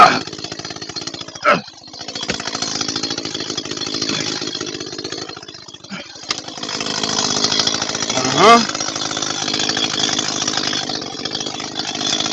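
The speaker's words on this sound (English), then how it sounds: "With a civilian chainsaw." Chainsaw cutting through a log, its engine droning steadily at high revs and dipping briefly as the cut changes, loud and close, with a short voice heard under the noise.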